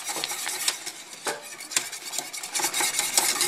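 A whisk clatters rapidly against a metal pot of thickening turkey gravy, quick scraping and tapping strokes in a steady rhythm, close and fairly loud.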